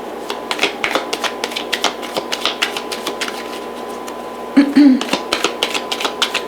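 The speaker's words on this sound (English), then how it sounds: "So I'm going to shuffle the cards." A deck of tarot cards being shuffled close up, a run of quick papery riffles and taps in an irregular patter, with a brief voice breaking in partway through.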